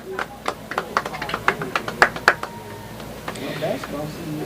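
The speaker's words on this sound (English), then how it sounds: "One more loud round of applause for our cross-country runners." A crowd at a Lebanon High School athletics event claps for its cross-country runners: a run of sharp, sparse claps for a couple of seconds that then fades, under a speaking voice.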